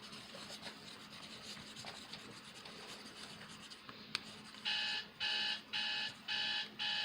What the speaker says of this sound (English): Why is my alarm ringing at me?